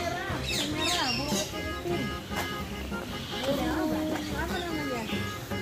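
Birds in a large aviary at a safari garden chirp and call repeatedly in short bright bursts, while people talk over them nearby.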